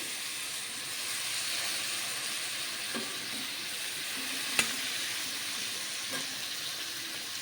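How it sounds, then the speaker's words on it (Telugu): Quarter kilo of eggplant pieces sizzling and frying steadily in a pan for curry, with a few soft clinks of stirring over the continuous hiss; no talking. "ఇప్పుడు వంకాయలు వేసేద్దామండి"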